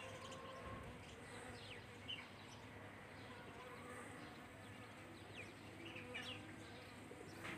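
A bee buzzes around rose plants in a garden, a very faint, continuous drone set against quiet outdoor background noise, with some soft voices nearby.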